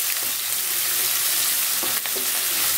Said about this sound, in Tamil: இந்த வெங்காயம் ஓரளவு வதங்கணும், வதங்கட்டும்.